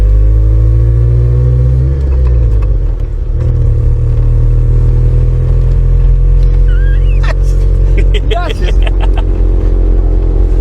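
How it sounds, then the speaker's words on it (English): A 1994 Ford Ranger pickup's small 4-cylinder engine idles and revs loud and close, climbing and falling in pitch, with some mechanical clatter and a person talking over it. "You're gonna give it a lot more gas because it's a wimpy little 4-cylinder."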